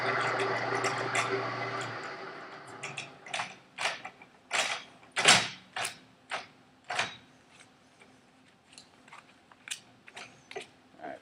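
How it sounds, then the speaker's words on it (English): A pipe cutter is turned and tightened around a pipe, producing a series of metallic clicks and scraping grinds in an uneven rhythm. Some spoken words come near the start, and the grinding continues alone, gradually softening. "for every 4 turns we're gonna tighten it down a quarter of a turn so we can cut it"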